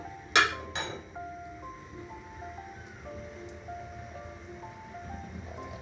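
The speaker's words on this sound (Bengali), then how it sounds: "এখন নাড়াচাড়া দিয়ে ঢেকে দেব।" A pot of turmeric-seasoned bhorta is stirred and covered, with two sharp metallic clinks of the lid close together at the start, then a low, quiet background.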